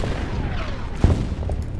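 A shot fired from a bunker in the Order of Battle Winter War strategy game, with one sharp report in the middle over a low rumble of battle.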